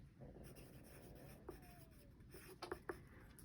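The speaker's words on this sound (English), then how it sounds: "I just write it down." Pencil or pen jotting a row count on paper while knitting a Barbie purse, a few soft, faint scratching strokes and small taps near the end in a quiet room.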